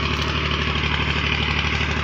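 A tractor drives a rotavator through a guava orchard, its engine chugging loud and steady at close range with a continuous rumbling drone and no voices.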